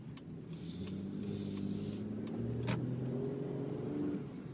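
A 2013 Acura RDX with a 273-horsepower V6 in sport mode accelerates, heard from inside the cabin as a steady engine drone with a slowly rising pitch and constant road noise, with no talk.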